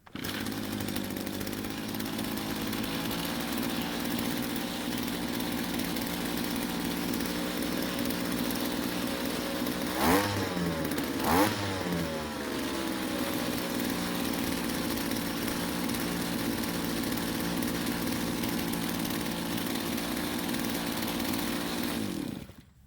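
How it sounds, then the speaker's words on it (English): A string trimmer's small two-stroke engine runs steadily at a loud, constant drone, its head not spinning, with two brief revving bursts partway through before it cuts off at the end. "let's start the engine and see if it's spinning"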